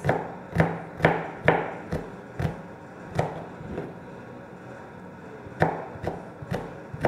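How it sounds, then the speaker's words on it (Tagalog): A knife chops onions on a wooden board in sharp, close, evenly spaced thuds, about a dozen strikes with short gaps between them. "hiwa sibuyas challenge"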